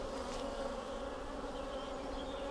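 A constant hum of honeybees at their hive boxes under a grey, cool sky, an even, close drone with no break and no voices.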